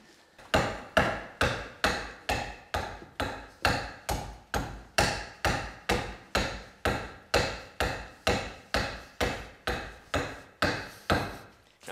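An adze hollows out burr-grained wood in steady blows, about two per second. Each is a sharp, resonant thwack that decays quickly, close and loud in an even rhythm with no talking.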